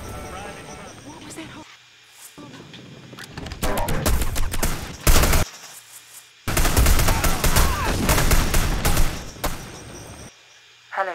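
Gunshots in the video game Hitman: Blood Money played at double speed, loud rapid volleys in two long stretches broken by quiet gaps, with someone talking over parts of it.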